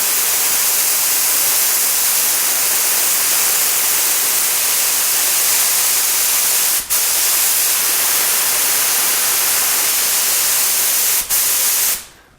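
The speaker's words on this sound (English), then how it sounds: "spray all the thinner through the spray gun" A steady, loud hiss of a spray gun spraying thinner continuously, broken by two tiny clicks before cutting off at the end.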